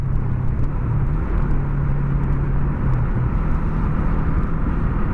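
A car engine labours uphill in a low gear on a road near Seabra, Bahia, a loud, steady, droning hum with a sustained low tone that shifts slightly partway through, heard from inside the vehicle.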